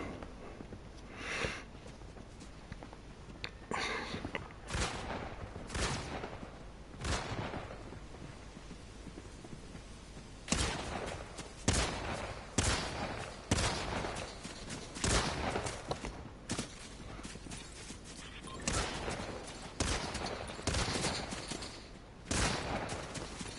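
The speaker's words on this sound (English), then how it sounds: "Who keeps shooting me?" Scattered gunshots from a Fortnite match pop at moderate distance, coming in irregular single cracks and short clusters over a quiet background.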